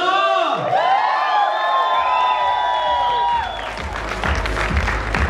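A crowd at an IFBB pro bodybuilding show in India claps and cheers loudly. The applause starts strong and keeps going, with whoops rising toward the end, and an announcer's voice is heard at the start.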